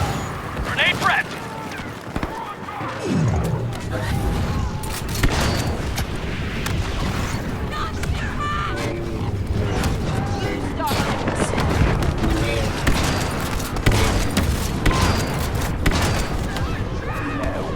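Grenade explosion and gunfire in the Star Wars Battlefront II (2017) video game during a First Order battle on Jakku, with dense booms and shots under voices talking throughout.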